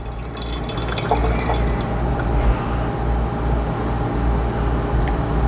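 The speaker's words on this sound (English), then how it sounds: "Put some hot water in there." Hot water is poured into a coffee brewer and a drinking vessel in a hotel room, a steady, continuous pour and fill close by over a low background hum.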